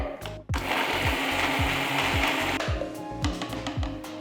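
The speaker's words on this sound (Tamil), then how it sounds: "ஃபஸ்ட்டு நான் தண்ணி இல்லாமல் தான் அரைக்க போகிறேன்" A kitchen mixer jar grinds thuvaiyal without water, running in short repeated pulses: a loud, gritty whir broken by a regular rhythm of bursts.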